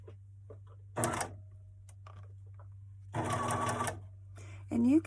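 Two bursts of a sewing machine stitching a makeup bag without backstitching, each about a quarter to a full second long, set against a steady low hum, with a brief voice at the end.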